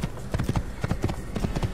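Horse hooves clip-clopping at a brisk, steady rhythm while riding in the Assassin's Creed video game, loud and close with a faint background hum.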